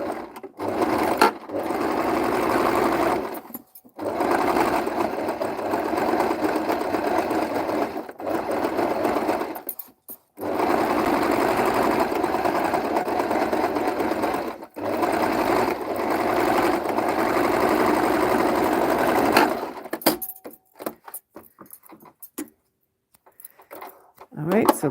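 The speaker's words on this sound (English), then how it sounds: "I am going to be doing a 1/4 of an inch stitch, top stitch all the way around here." A sewing machine top stitches a quarter-inch seam, running in long steady whirring bursts of rapid needle chatter with short pauses between runs, close and loud, then stopping near the end.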